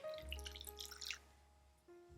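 About half a cup of water goes into a pan on a stovetop burner set to medium-high, giving a brief splashing, sizzling burst up close that settles into a faint hiss and hum.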